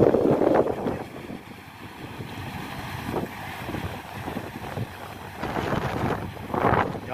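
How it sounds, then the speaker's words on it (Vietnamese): Strong wind buffets an outdoor microphone near farm ground worked with a tiller, a steady low roar with louder gusts at the start and end. "Gió quá anh em ơi"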